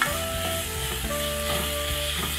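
Chicken mince and egg sizzle steadily in a frying pan, a close, continuous crackle with soft stirring scrapes and a faint background hum.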